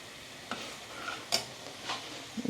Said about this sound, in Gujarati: આપણું પનીર પણ અહીંયા ઘીમાં ફ્રાય થઈ છે